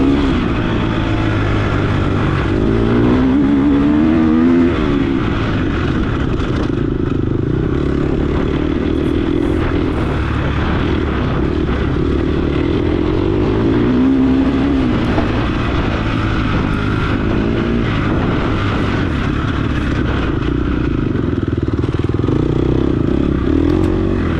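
A dirt bike engine drones loud and close throughout a race, its pitch rising and falling with gear changes and rough, buzzing revs, with no talk.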